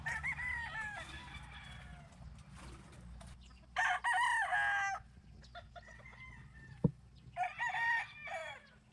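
Chickens bathed by hand, gamefowl crowing and clucking in repeated bursts, several loud close calls separated by pauses over a low steady background rumble, with a sharp thump near the end.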